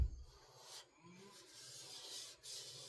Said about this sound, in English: Sand her down smooth,